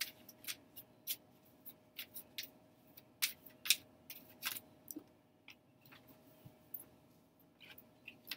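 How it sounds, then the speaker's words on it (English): Tarot cards being shuffled by hand during a reading, a quiet, irregular run of light papery flicks and taps spread over several seconds. "I'll shuffle these cards as well."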